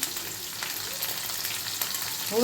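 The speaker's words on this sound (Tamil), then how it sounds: "ஒரு பக்கம் ஃப்ரை ஆகிட்டுருக்கு" Chicken pieces fry in a pan with a soft, even sizzle that stays fairly quiet and constant, with no talking and a faint clatter at the end.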